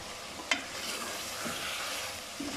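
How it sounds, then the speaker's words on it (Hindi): Round gourd (tinda) pieces frying with chicken masala in a pot, giving a steady, even sizzle throughout with one sharp clink of a utensil early on and faint stirring scrapes. "फिर भुनाई करेंगे टिंडे के साथ ताकि जो हमारा मसाला है वो अच्छे से टिंडे में भी लग जाए"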